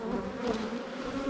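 Honey bees buzz steadily on a beehive frame during swarm-prevention handling, a dense close drone with no pauses and no talk.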